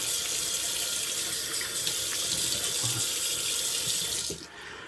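Water pours steadily from a sink tap while someone rinses off after a straight-razor shave. The flow is loud and close and continuous, then stops abruptly near the end.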